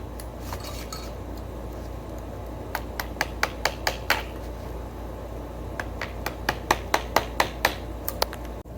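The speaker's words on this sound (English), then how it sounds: "I'm gonna hammer and chisel it the rest of the way," A hammer drives a chisel into the wooden neck of a Telecaster guitar being shaped, producing sharp, close metallic taps that come in irregular bursts over a low background hum.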